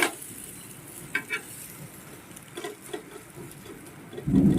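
Paratha frying in mustard oil in a pan, a soft, low sizzle with a few scraping taps as it is turned, ending in a louder burst as the bread is flipped.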